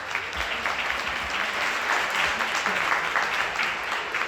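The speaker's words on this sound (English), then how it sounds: "can we give a big round of applause for our other co-founder" Audience at the Louisville Dirt Bowl Hall of Fame Awards applauding for co-founder Janice Carter Miller, a dense, steady crowd clapping that holds evenly throughout at moderate loudness.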